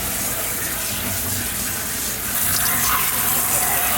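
Tie-dyed fabric is rinsed under a steady stream of running water, a continuous close gushing wash that swells slightly louder midway through.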